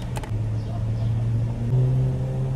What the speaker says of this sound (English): I'm driving my own freaking car!